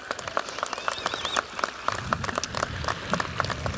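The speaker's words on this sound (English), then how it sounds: "Yeah, give them a round of applause." Graduation audience applauding in a high school ceremony's stands, a steady patter of many hands clapping at moderate distance, fairly soft and continuous throughout.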